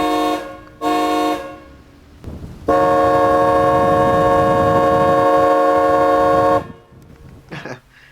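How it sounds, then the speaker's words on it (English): A 4-note Delco Remy horn from a late-1990s Cadillac, fitted to a 1989 Lincoln Town Car, honks in two short bursts and then one long sustained blast of several seconds, loud and close, with no talking. "That's actually a Delco Remy horn from a late 90s Cadillac."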